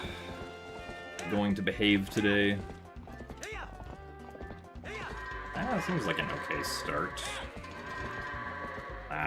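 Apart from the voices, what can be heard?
goats running and bleating in video game Twilight Princess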